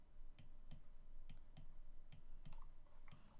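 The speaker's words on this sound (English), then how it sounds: "You can just hear my clicking." Computer mouse clicking steadily while someone draws a cow on screen, a series of sharp close clicks repeating roughly every third of a second over a low constant hum.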